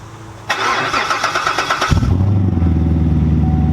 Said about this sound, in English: Let's give them their last cold start of what it's going to sound like now